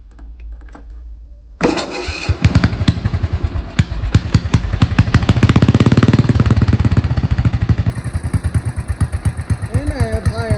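A pulling tractor engine cranks over and catches at about the two-second mark, then runs loud and close with a steady, rapid firing beat before settling toward a high idle. Talk is heard faintly before it starts.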